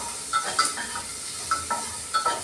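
Garlic and onion fry in a pan while a spoon stirs them, with soft sizzling under several distinct scraping strokes against the pan at irregular intervals, close up and without speech.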